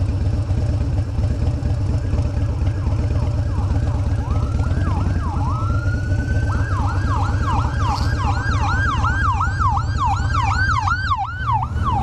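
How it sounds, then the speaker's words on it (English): An ambulance siren wails loud and close while being followed on the road, cycling through rising and falling sweeps, then switching to a rapid yelp, all over a steady engine rumble. "We're following an ambulance today."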